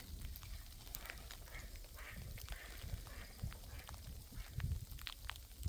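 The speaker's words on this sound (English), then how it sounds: "Oh my gosh, all those ducks." Distant ducks quack faintly over steady outdoor background noise, with scattered calls coming from a flock some way off.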